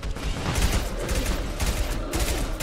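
Machine pistol gunfire in Mass Effect 2, a loud, rapid stream of automatic shots in continuous bursts with brief breaks, sounding close and alone.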